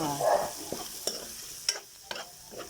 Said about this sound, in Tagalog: Gisahon kay para mulami gayud ang pagi.